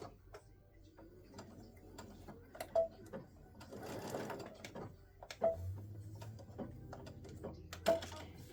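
Sewing machine stitching a quarter-inch seam to attach borders on a fabric hot pad, soft intermittent mechanical whirring and clicking in short bursts, quiet and close with brief pauses between runs.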